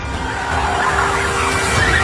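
A car veering out of its lane skids with a loud, sustained tire squeal that swells slightly and holds steady, close and alone.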